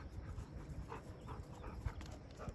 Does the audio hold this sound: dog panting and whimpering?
yes